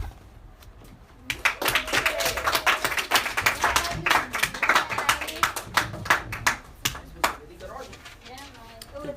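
An audience claps steadily for several seconds, a dense burst of applause starting abruptly and continuing with sharp individual claps standing out, with some voices mixed in.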